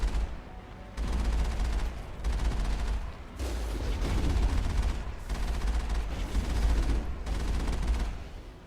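Geth armature heavy artillery firing in the sci-fi game Mass Effect: sustained heavy booming barrages with deep rumble, running almost continuously in long loud stretches separated by brief pauses.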